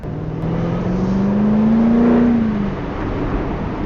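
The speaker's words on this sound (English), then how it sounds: "On this car, you can just leave the accelerator down and it just goes around like a little rocket." A Jaguar car accelerates hard around a corner, its engine note rising steadily to a peak and then easing off, loud and close with no talk over it.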